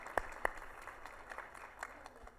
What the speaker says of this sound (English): Let's give a round of applause for our panelists.